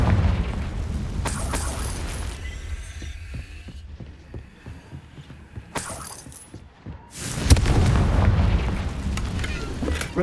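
Confringo fire spell blasts go off in the Hogwarts Legacy video game: a loud fiery burst, a stretch of quieter throbbing pulses, another sharp burst, then a long rumbling explosion near the end, with no voices.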